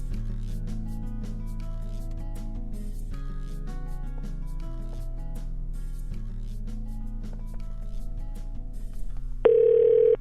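An outgoing phone call: steady, droning telephone line tones pulse evenly and fill the background, and a louder, brighter beep cuts in just before the end, with no one speaking.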